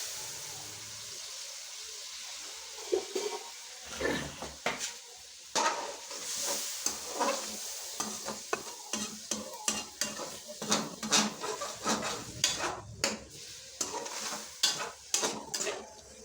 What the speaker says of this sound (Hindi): हमारा मसाला और कीमा दोनों भून गए। इसमें थोड़ा सा पानी शामिल करेंगे इसमें।